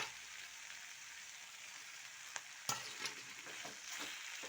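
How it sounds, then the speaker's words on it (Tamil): Grated coconut stirred into a pan of sautéed tomato and onion for onion chutney, a steady soft sizzle with a few sharp scraping clinks of the spoon toward the end. "தேங்காய் போட்டு ஒரே பெரட்டு, லேசாக பெரட்டின போது"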